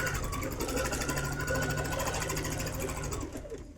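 A sewing machine stitches quilt block pieces with a quarter-inch seam, giving a steady, close, continuous mechanical whir and rapid needle patter that runs unbroken and softens slightly near the end, with no talking.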